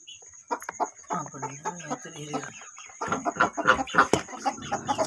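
A hen sitting on eggs clucks in short, soft, irregular calls near at hand, fairly quiet, with a faint steady high tone in the background.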